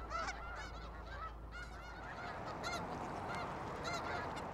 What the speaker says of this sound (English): watch the waves of the snow geese come in